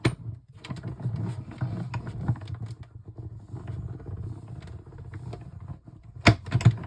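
A die cutting machine cranks through card for a greeting card, giving a low rumbling, grinding mechanical roll that runs steadily for several seconds, close, with a few sharper clacks near the end and no talk.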